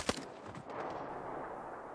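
A single sharp gunshot cracks out at a Taliban checkpoint in the 2023 war film The Covenant, followed by a lingering rumbling wash of noise.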